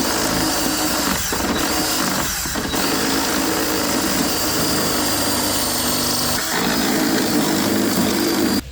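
A power drill with a step bit grinds steadily into metal in a shop, loud and close. The whine is continuous, with a few brief pauses and changes in pressure.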